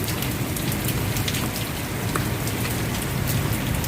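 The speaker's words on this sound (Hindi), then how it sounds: "बाहर हो रही है बहुत तेज बारिश" Heavy rain pours steadily, a dense, even hiss with scattered drops tapping on nearby surfaces and no voices.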